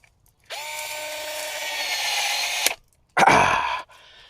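A power saw cuts through a pipe beside a house's main water valve: one sustained, loud whine of about two seconds stops abruptly, then a shorter, rougher burst of cutting follows after a brief pause.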